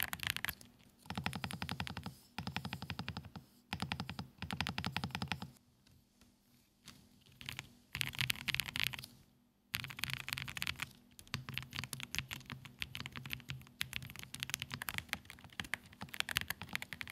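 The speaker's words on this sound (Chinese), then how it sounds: "接下来就先简单给大家来一段打字音的对比。" Typing on an itou65 aluminum-case mechanical keyboard, bursts of fast, dense, close clacking keystrokes separated by short pauses, some quieter stretches between runs, no voices.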